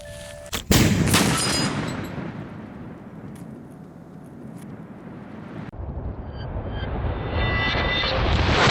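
A single loud, sharp blast of an exploding target hits early and then rolls away into a long, fading rumble. A second thud follows later, trailing off in open air.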